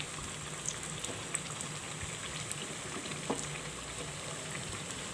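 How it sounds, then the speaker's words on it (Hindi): Potato pakoras fry in hot oil over a medium flame, giving a steady crackling, bubbling sizzle with a few sharper pops, close and continuous throughout. "मीडियम फ्लेम में हमको फ्राई करना है"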